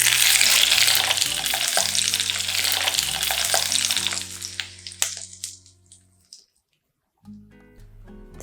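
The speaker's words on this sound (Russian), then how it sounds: "И теперь кипящее масло я выливаю на наши картофельные грибочки." Boiling oil poured over potatoes hisses and sizzles loudly for several seconds, then dies down to quiet crackles and near silence, briefly resuming at the end.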